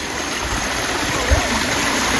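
Water flowing steadily in a nearby stream, a constant rushing babble with a brief low thump partway through.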